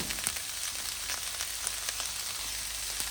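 Pork and onions for spicy fajitas frying in a pan at an off-grid cabin, giving a steady, close hiss of sizzling with faint pops and crackles throughout, no voices.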